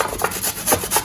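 Fresh ginger is grated for Jamaican curried chicken with quick, close, rhythmic rasping strokes, about four or five in a second.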